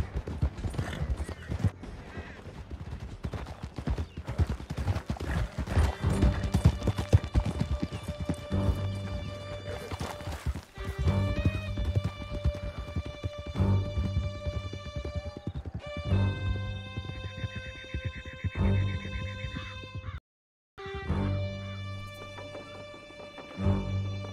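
Horses gallop hard in Red Dead Redemption 2, their hoofbeats drumming steadily and loudly with occasional neighs, layered under sustained music tones and with a brief silent gap near the end.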